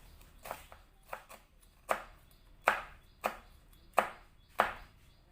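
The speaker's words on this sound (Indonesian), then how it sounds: "8 biji cabai rawit diiris serong" A knife slices through eight bird's eye chilies diagonally on a cutting board, with about eight crisp, evenly spaced chops close up, growing louder toward the end, with no talking.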